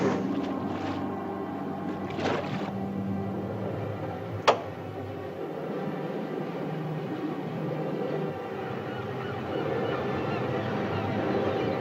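A boat engine runs slow while heading down a bay, a low steady drone under wind and water noise, with a brief sharp honk-like call partway and no speech.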